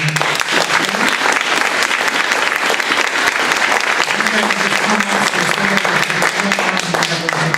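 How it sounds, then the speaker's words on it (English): Steady, loud applause fills a school board meeting for graduating students, among them the valedictorian and salutatorian, a dense continuous patter of many hands with a faint voice murmuring beneath. "A little round of applause for our"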